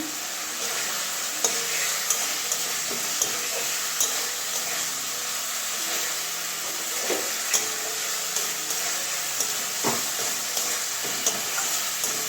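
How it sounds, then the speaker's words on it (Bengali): Boiled potatoes sautéed in spiced oil, stirred in a pan: a soft, even hiss of frying runs throughout, punctuated every second or so by light scrapes and taps of the spoon. "ভালো করে কষিয়ে নেব"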